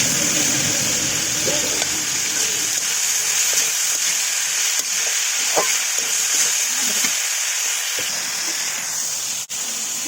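Bitter gourd fries with small potatoes in a pan of hot oil, a loud, steady, close sizzle and hiss that runs throughout, broken by a few soft clicks from stirring.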